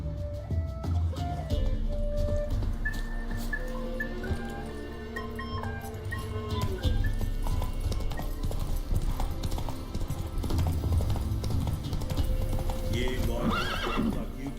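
Geralt's horse Roach galloping in The Witcher 3, with rapid hoofbeats, a loud whinny and game music and voices layered over the steady rhythm.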